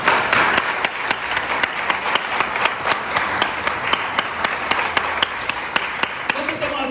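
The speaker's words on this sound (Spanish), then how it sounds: "Denle un aplauso al Señor." A church congregation claps together in a strong, regular rhythm during a worship service, loud and close, with the sharp beats continuing steadily and a voice entering faintly near the end.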